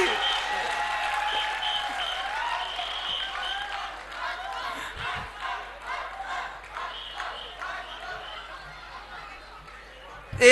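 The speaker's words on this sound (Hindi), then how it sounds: "सारे लोग ताली बजाओ, नहीं तो चूड़ी रात भर यहीं अटकी रहेगी" An audience at an outdoor kavi sammelan poetry gathering in Udaipur, Rajasthan claps in a long, dense burst of applause that slowly tapers, with some chatter and laughter mixed in.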